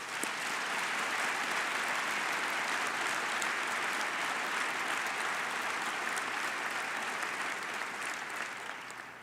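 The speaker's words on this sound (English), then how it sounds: "Please join me in giving them a very warm round of applause." An audience at a civil rights event gives a warm, sustained round of applause, dense and even clapping that holds steady for nearly nine seconds before starting to taper off.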